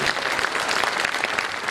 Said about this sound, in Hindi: थोड़ा सा तालियां दे दीजिए